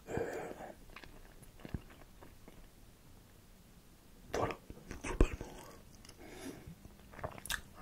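Someone chewing and biting food at a meal, likely beef, chicken or fries, with soft close mouth sounds and a few sharper crunchy bites, interspersed with quiet whispered speech.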